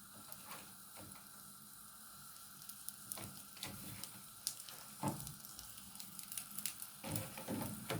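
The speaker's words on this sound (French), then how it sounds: "Et après, je vais rajouter les crêpes. Et les crêpes dans la poêle." Crêpes filled with minced meat fry in a pan with a quiet, low sizzle, punctuated by scattered clicks and scraping knocks from handling the pan.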